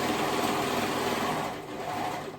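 A sewing machine stitching the gathered neck section of a sailor dress runs with a continuous close mechanical whir and hum, easing slightly toward the end, with no speech.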